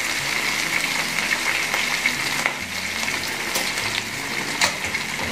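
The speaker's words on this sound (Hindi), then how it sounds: "ये देखें फ्लेम मैंने लो कर दिया और इस फ्लेम पे अब आपने इनको चांपों को 2 मिनट तक भूनना है।" Mutton chops fry on a low flame with a steady, close sizzle that stays even throughout, punctuated by occasional brief crackles.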